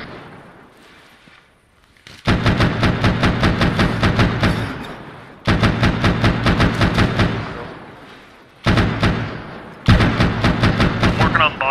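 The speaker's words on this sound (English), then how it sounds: "It's that BMP that's flipped over and like shooting at us." A flipped-over BMP armored vehicle fires rapid automatic rounds in four long rhythmic bursts, each a loud string of evenly spaced cracks separated by short pauses.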